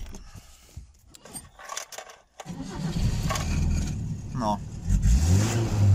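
An FSO Polonez car engine cranks and catches after some handling noises, then settles into a loud steady run with a rev rise near the end, close by; a short word is spoken just before.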